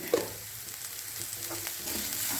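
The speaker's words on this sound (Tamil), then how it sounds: "எல்லாம் போட்டு நல்லா வதக்கணும்" A steady soft sizzle of spices and turmeric sautéing in a frying pan for tomato chutney, with a faint stir near the start, no voices.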